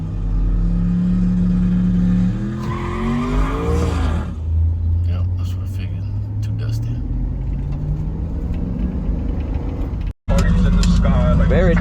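A vehicle turns around on a dusty road, its engine rumbling close and steady while the pitch rises and falls with revving. It cuts out briefly near the end and then resumes.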